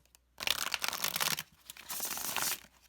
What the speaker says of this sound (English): I am going to riffle shuffle